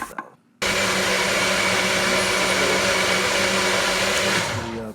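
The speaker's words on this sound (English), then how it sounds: "So pureeing the beans in the NutriBullet." A NutriBullet blender purees beans, starting abruptly after a brief quiet moment and then whirring at a loud, steady, high-pitched drone until it begins to wind down at the end.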